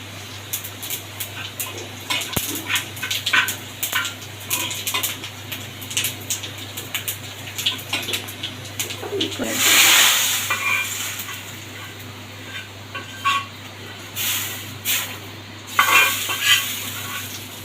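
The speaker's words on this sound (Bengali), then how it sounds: "এখন আমি ডালে জিরা ফোড়ন দিয়ে দেবো" Cumin seed tempering sizzling for lentil dal, with a steady frying crackle, a louder hissing burst midway, and scattered clinks of utensils against a pot, close by and without speech.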